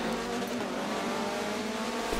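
Mazda MX-5 Cup race cars launching at the start of a Silverstone National race in a racing video game, with a dense, steady drone of several engines at full throttle, loud and continuous throughout.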